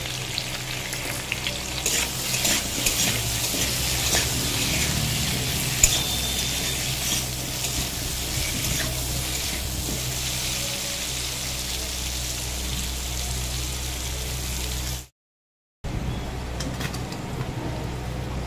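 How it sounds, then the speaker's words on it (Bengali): Potato pieces fry in oil with salt and turmeric, sizzling in a steady crackle that keeps going for the whole stretch, close and moderately loud with no voices. "লবণ আর হলুদ দিয়ে আলুগুলো ভালো করে ভেজে নেব"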